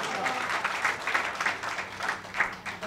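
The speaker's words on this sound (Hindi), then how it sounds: "फिर तालियां हो जाए" Audience applause at a mushaira poetry recital in Mumbai, a steady crowd clapping with many overlapping hands, moderately loud and continuous with small swells throughout, no voices over it.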